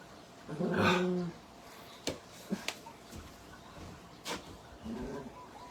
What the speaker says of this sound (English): Excuse me for barking so much.